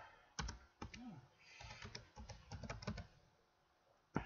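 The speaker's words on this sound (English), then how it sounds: "it's hard for me to think about the things I want to cover while I'm typing" Someone types on a computer keyboard, with bursts of quick clicking key presses separated by short pauses and a louder single tap at the end, close and fairly quiet.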